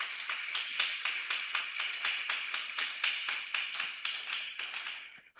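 A church congregation applauds for the Lord, about twenty steady rhythmic claps at a brisk even pace, fairly close and moderately loud, with no talking over them.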